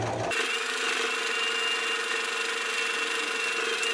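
Sewing machine stitching a pocket patch and flap together for a white vest, a steady close mechanical whir running continuously after a brief start.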